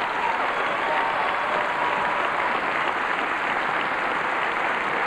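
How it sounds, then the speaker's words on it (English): Church audience clapping for Dodie, a loud, even roar of many hands sustained unbroken across the whole stretch. "Give Dodie a hand clap."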